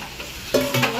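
A spoon stirs food in a hot pan of frying onion, green chilli and curry leaves, scraping in two short bursts over a steady sizzle, close and fairly loud.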